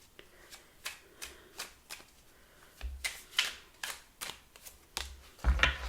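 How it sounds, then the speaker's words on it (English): Tarot cards are handled and laid out, giving a quick series of crisp, close slaps and flicks of card stock, irregular in rhythm and growing a little louder toward the end. "Let's put some more cards on that."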